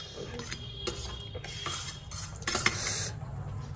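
A metal spoon clinks and scrapes against a dish while someone is being fed, several light taps and scrapes spread irregularly across the moment, close and fairly quiet over a soft room background.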